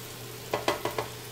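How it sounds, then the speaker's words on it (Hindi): Onions being stirred and sautéed in a frying pan, cooked soft without browning: four quick scraping, sizzling strokes in a row, quiet and close, with no talking. "3-4 मिनट तक प्याज को हमने इसी तरह से फ्राई करना है।"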